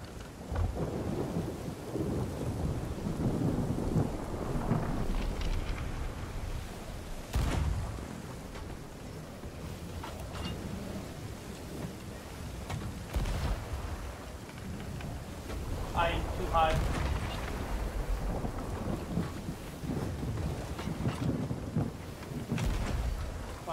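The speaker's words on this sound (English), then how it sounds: "that's a tornado we're sailing right into" Stormy weather in a pirate video game, with rolling thunder, wind and rain battering a sailing ship heading into a tornado. A steady loud roar runs throughout, with a voice talking over parts of it.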